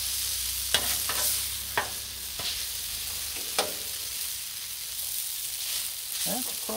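Two metal spatulas scrape and clack against a Blackstone flat-top griddle while shrimp scampi sizzles steadily underneath, with several distinct sharp scraping strokes spaced a second or so apart, close and clear without speech.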